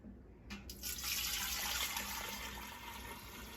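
Starter liquid pouring into a one-gallon jar of sweet tea for kombucha, a steady splashing trickle that begins abruptly and runs close and fairly loud until the end.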